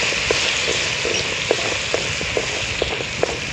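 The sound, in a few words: garlic ginger paste frying in pan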